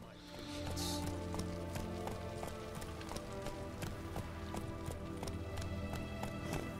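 Steady clip-clop of horse hooves at a quick pace in The Witcher 3: Hearts of Stone, against a constant ambient backdrop, with a brief high whoosh near the start.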